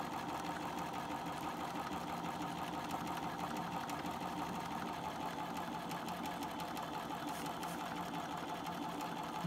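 A sewing machine runs steadily for the whole stretch, stitching a brim toile along its edge in one even, continuous close-up whir with no pauses.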